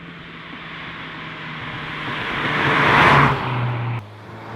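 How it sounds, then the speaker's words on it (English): A Cupra Leon Estate 310 VZ2 car drives past, its engine note swelling to a loud peak before dropping away sharply, with steady road rumble throughout and no voices. "let's go for a bit of a drive and find out what this Leon Cupra Estate is really like"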